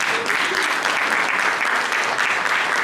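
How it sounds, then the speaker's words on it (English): Audience applause at a high school football championship ring ceremony, steady dense clapping from a crowd filling the whole moment at an even, loud level. "I think that deserves a round of applause."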